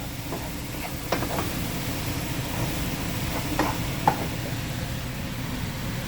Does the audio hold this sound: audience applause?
no